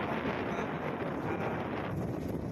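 Strong wind buffets the microphone on a rough, stormy coastal day with a low-pressure system nearby, a loud continuous roaring rumble with gusty swells and no speech.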